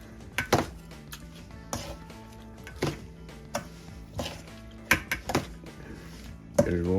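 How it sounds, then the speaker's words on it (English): Coleslaw being stirred in a bowl, with clattering scrapes and knocks of a utensil against the dish, scattered irregular strokes close by, alone without talk. "just give this a good mix"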